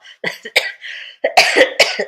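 A run of several harsh, raspy coughs close by, coming in uneven bursts with short pauses between them.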